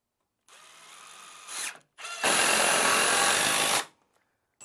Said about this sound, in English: Let's put that back together using some screws.